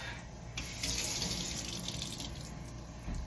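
Tap water runs steadily into a sink as hands and arms are rinsed during a surgical scrub, a continuous close splashing hiss that swells slightly in the middle and stays alone without talk.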